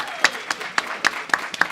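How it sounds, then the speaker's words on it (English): An audience applauds contestants at a youth entrepreneur panel event with sparse, moderately loud claps that land at a steady pace, and faint talk sits underneath. "You guys clap it up for these contestants, please"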